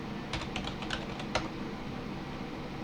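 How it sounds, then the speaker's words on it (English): A computer keyboard running Windows 10 is typed on in a short burst of crisp, close keystroke clicks over a steady background hiss, with no voices. "So we're going to type in disk part."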